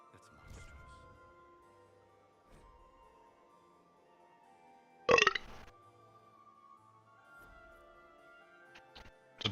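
A single short burp from a player during a Dragon Age Inquisition game stream, brief and close, set against quiet in-game background sound.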